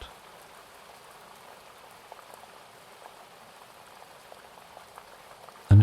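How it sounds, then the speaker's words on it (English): Boiling water bubbles gently inside a teapot, a soft, steady fizzing patter that blends with a rain-like hiss, faint and continuous with no talking. "And a gentle bubbling can be heard within the teapot."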